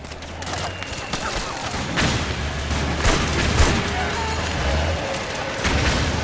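Machine gun fire in the video game Metal Gear Solid 4: Guns of the Patriots, loud sustained bursts and thuds with sharp cracks, mixed with game music and effects.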